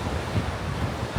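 A brief, steady rush of waves and wind at Little Beach, Two Peoples Bay, with low rumbling wind buffeting on the microphone and no voices.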